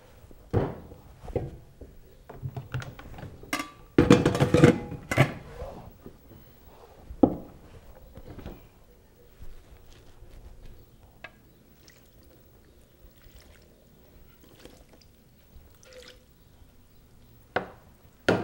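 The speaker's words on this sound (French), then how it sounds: "D'abord, on verse la l'eau dans le bol, puis on l'arrose de l'assaisonnement." Water and seasoning poured into a bowl of cooked rice, heard as soft dripping and splashing with a louder pouring burst early on, then quieter scattered drips, close and alone.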